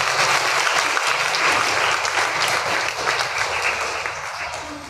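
Sustained applause from a congregation at a Christian prayer service, a dense steady clatter of many hands that stays loud and even throughout, easing slightly toward the end.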